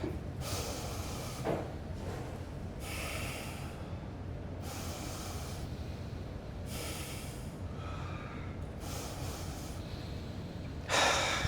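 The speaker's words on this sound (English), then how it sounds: "Just take a couple of deep breaths. Fill up the lungs, stretch out the lungs" Deep breathing exercise: slow, audible breaths drawn in and let out through the nose and mouth, several long inhales and exhales in a steady rhythm, close and moderately loud, with a sharper snort-like breath near the end.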